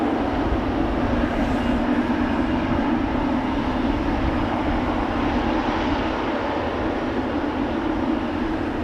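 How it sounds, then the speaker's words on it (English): Delta Airbus A330neo airliner departing Amsterdam Schiphol, a steady broadband jet roar holding at constant loudness throughout, with no voices. "Delta A330neo next."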